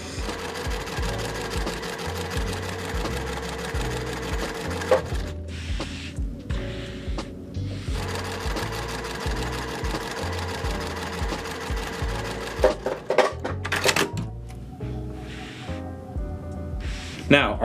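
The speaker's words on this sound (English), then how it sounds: "last step is to just sew our edges onto the center and our block will be done" Sewing machine stitching the edges of a quilt block onto its centre: bursts of rapid rhythmic needle chatter broken by short pauses, close and fairly quiet.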